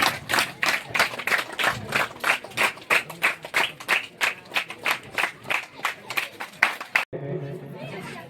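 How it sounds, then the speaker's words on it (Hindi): An audience claps in repeated, rhythmic bursts at a Bastar Olympics rural sports event in Gamhari, Kondagaon, honouring guests; loud and close, then cutting off abruptly near the end, with crowd chatter underneath. "इसी तरह से ताली बजती रहनी चाहिए हमारे अतिथियों के सम्मान में"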